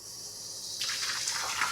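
Water gushes into a commercial brewing vessel during a brew day, switching on abruptly partway through and continuing as a steady, fairly loud hissing rush.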